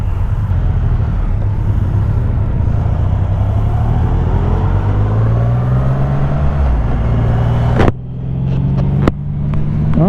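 A Triumph Rocket 3 GT motorcycle pulls away under steady acceleration, its deep engine rumble rising in pitch through the gears, loud and close, then easing as it shifts around the end.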